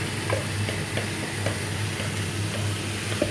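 Onion, carrot and peas cooking in a pan with a little water give off a steady close sizzle, and a utensil stirring through them adds soft scrapes and light knocks roughly every half second. No one speaks.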